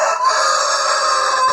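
An Australorp rooster crows in a poultry yard, giving one sustained, loud, harmonic call close by that fills the whole moment with no talk.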